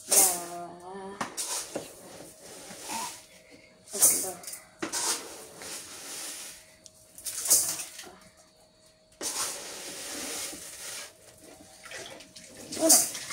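Water pours and sloshes in a pot as rice is rinsed for cooking, coming in several bursts of splashing between stretches of talk, with people speaking throughout.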